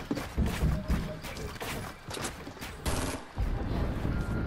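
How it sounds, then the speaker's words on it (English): Rapid bursts of gunfire from a Fortnite Battle Royale match, dense and loud throughout, with overlapping shots under excited voices talking. "Are you shooting me down?"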